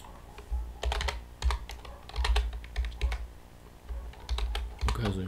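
Code being typed on a computer keyboard during Android app development, with close, irregular bursts of key clicks and thuds over about five seconds and no voice.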